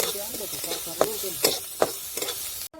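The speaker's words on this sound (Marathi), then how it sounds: "थोडस मी त्याच्यामध्ये तेल टाकून घेते म्हणजे मग कांदा खाली लागत नाही आणि चांगला परतला जातो" Onion frying in oil in a hot pan, a soft continuous sizzle broken by a few sharp spatula scrapes and stirs, ending abruptly.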